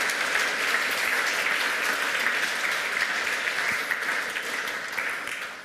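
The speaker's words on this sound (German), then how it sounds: "Applaus bitte mal" A conference audience at the 28c3 congress applauds after a talk on EU data protection, a dense, steady clapping from many hands that holds for about six seconds and eases off slightly at the end.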